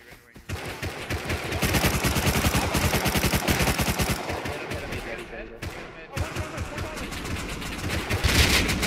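Automatic gunfire in a Rust player-versus-player fight, rapid bursts of shots repeated loudly through most of the clip with short pauses between them, and voices talking over the shooting.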